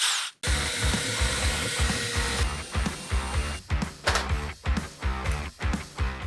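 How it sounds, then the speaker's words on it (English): A powerful power drill runs in sustained bursts that pulse and rev, loud and close, while fitting pipe for a home aquarium build. "This is a really good drill."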